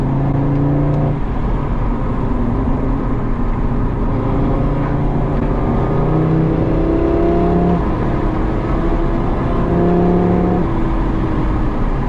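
An Audi RS3 drives and drifts on a track, its engine droning loud and steady with rising and falling revs, close and continuous.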